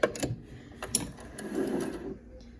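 A sewing machine stitches back and forth across a homemade fabric face mask, giving a short, quiet mechanical whirr with a few ticks, close by and heard alone.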